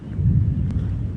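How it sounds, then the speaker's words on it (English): Thunder from a tornado-warned storm in Robertson County, Tennessee, gives a brief, low rolling rumble that swells and then fades within about a second. "listen to that thunder."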